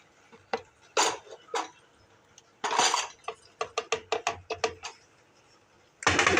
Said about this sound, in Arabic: نقلب ده كله كويس كده.